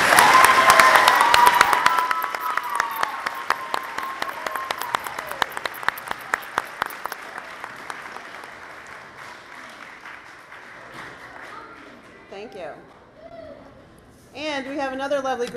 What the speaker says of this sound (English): Can we have a round of applause for our teachers